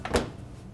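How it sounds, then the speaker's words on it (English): A Whirlpool refrigerator door is pulled open, giving a single soft, close thump of the seal releasing, followed by quiet room hush. "Then we're going to open the refrigerator door."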